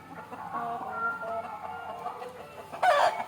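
Country hens cluck steadily inside a coop, a busy overlapping murmur of clucks with a louder burst of squawking near the end, close by and without talk.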